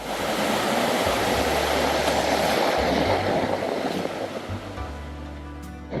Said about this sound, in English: sometimes when they are actually breaking on this rock, we are getting 2 to 3 meter high waves and we are getting sprayed